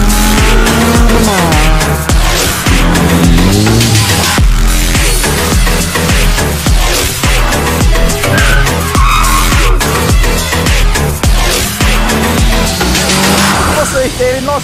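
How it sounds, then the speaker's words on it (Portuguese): Race car tires squeal on a track at a Renault Copa RS track day. The screeching comes loud and close over constant roaring engines, with a voice faintly under the din. "eu só tô escutando os pneus cantando na pista"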